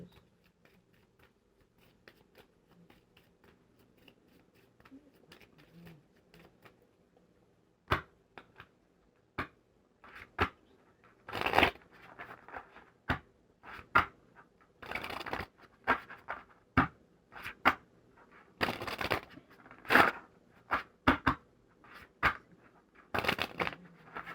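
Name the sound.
shuffling tarot cards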